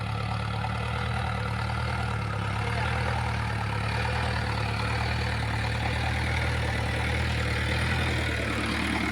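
A tractor engine runs steadily out in a dry field, with a continuous low diesel rumble that holds an even level throughout, close by and loud, with no talking.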